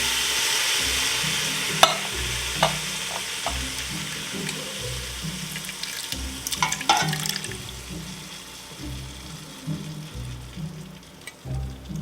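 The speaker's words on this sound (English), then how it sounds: "And now I'm going to add my 2 cans of tomatoes. I'm going to pour them in," Canned diced tomatoes pour into a goulash stew pot, giving a wet, sloshing splatter with scattered plops over a steady simmering sizzle, close and moderately loud throughout.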